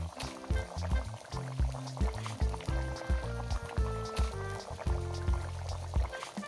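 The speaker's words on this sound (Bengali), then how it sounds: "ভালোভাবে নাড়িয়ে মাছগুলোকে ঝোলে ডুবিয়ে দেব" Mixed fish pieces stirred in curry gravy, a steady wet slosh with rhythmic liquid churning and spoon scrapes, close and continuous throughout.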